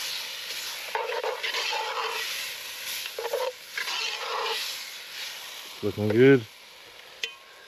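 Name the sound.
stirring crushed tomatoes in frying pan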